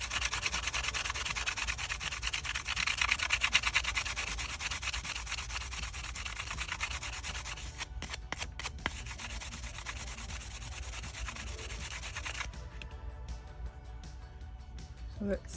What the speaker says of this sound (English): First I'm gonna sand it just to give a smooth surface to put the decals on them.